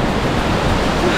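Tumpak Sewu waterfall in Indonesia, heard from its base, pours out a loud, constant broadband roar of falling water that fills everything without a break.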